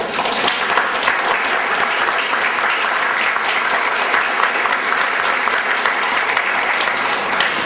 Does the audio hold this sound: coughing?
no